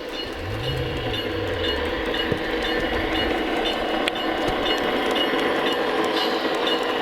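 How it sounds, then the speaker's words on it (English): A train rumbles steadily with a low engine tone rising in pitch, wheels clattering and occasional metallic clinks, all at a constant loud level. "if you take a look at the engines, they're starting to really accelerate"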